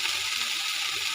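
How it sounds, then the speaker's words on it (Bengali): Leafy cane-shoot greens dropped into a hot pan with garlic and green chili, giving a steady hiss of sizzling oil that stays even and close throughout the short moment. "এবার শাক দিয়ে দেবো"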